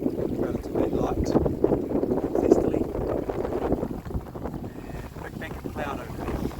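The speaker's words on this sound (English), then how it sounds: "Nice point of sail, upwind, relatively light." A sailboat beats upwind in light air near Kawau Island, New Zealand; wind buffets the microphone steadily over a low rush of water along the hull, with muffled voices faintly underneath.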